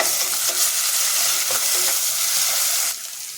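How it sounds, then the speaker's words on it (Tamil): Ginger-garlic paste sizzles and fries in a hot pan while a utensil stirs and scrapes, loud and close, the sizzle easing slightly near the end. "இஞ்சி பூண்டு பேஸ்ட்டு ஒரு ஸ்பூன் சேர்த்துக்கிறேன் பச்சை ஸ்மெல் போகிற வரைக்கும் வதக்கி விட்டுக்கோ"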